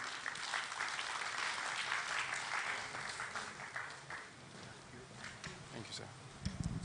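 An audience at a regional pensions stakeholders forum applauds in a sustained wash of clapping, with indistinct speech under it and a few louder bumps near the end.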